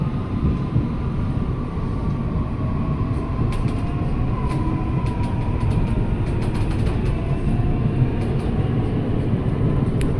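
A KRL commuter train pulls out of Kranji station on track 1 in a continuous heavy rumble, with a steady high electric whine above it and scattered light rattles, and no talk.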